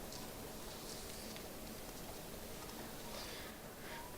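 Steady rain falls as a dense, even hiss of drops, quiet and unbroken throughout, with no voices over it.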